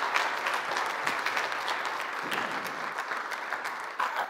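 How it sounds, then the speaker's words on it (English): A church congregation applauds with sustained, dense clapping that stays steady and loud throughout. "can we give the Lord a hand clap of praise?"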